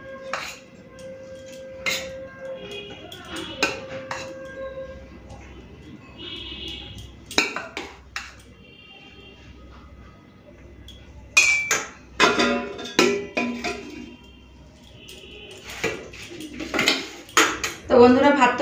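Rice and dishes served onto plates with metal utensils, scattered clinks and scrapes of spoons against plates and pots in bursts, close by, with some talk in between.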